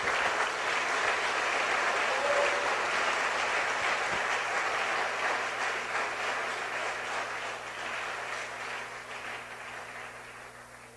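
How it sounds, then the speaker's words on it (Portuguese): A congregation claps in church, a sustained wash of many hands applauding for a long stretch that slowly fades a little toward the end, with a low steady hum beneath. "Bate palmas para Jesus."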